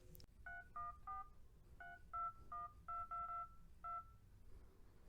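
Touch-tone keypad beeps ring out from a Dell Streak 5 phone, about a dozen short, clean dual-tone presses in an uneven rhythm, close and clear against a quiet background.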